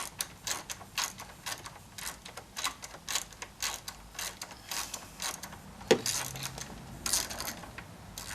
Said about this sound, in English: take an 8mm socket and we're going to loosen this bolt right here